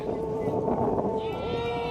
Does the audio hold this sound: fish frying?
no